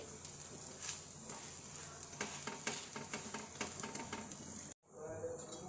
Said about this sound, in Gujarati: હવે આને બીજું થવા દઈશું 5 મિનિટ। લોખંડના તવામાં સરસ ક્રિસ્પી થાય છે।